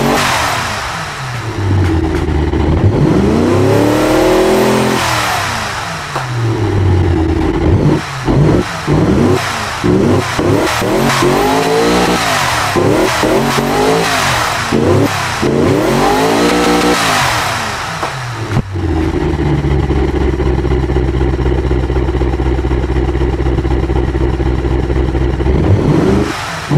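A 500 hp budget build car engine in the Automation game revs loudly and repeatedly, pitch sweeping up and down in hard bursts before settling into a steady high drone, close and dominant with no talk.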